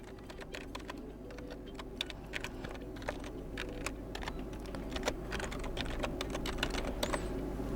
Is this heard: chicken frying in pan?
no